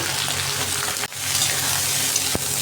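Mixed vegetables for Bengali shukto frying lightly in a pan, a steady close sizzle with stirring and a brief break midway, no talking.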